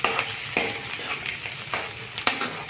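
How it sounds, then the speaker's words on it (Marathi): Potato mixture with rock salt being sautéed in a pan, a close crackling sizzle broken by several sharp scraping stirs of a spoon at irregular intervals. "आणि थोडं सैंधव मीठ घालणे. आता छान परतून घेणे."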